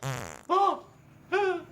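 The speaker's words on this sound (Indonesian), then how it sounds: "kentut." Three loud, close fart sounds in quick succession, the first longer and the next two short bursts, heard alone in an Indonesian comedy cooking sketch.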